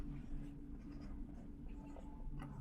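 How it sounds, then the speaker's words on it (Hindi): A brief stretch of writing on a board or paper while a teacher lists remedies, quiet scratchy strokes over a low background hum, with no speech. "चलो यहां लिखता हूं मैं उपाय।"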